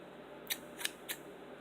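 A clean pair of scissors snips indoor plants in three crisp, separate cuts, close and quiet, spaced about a third of a second apart against a faint background.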